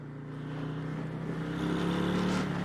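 A Harley-Davidson Fat Boy 114 motorcycle rumbles steadily on a demo ride, a low continuous engine drone that swells slightly as it goes, close up with no talk.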